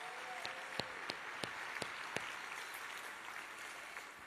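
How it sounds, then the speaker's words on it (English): Audience applause rising after a live band played music throughout a travel and tourism week event, a steady wash of many hands clapping at moderate distance, with a few louder individual claps standing out. "Let's give them a round of applause."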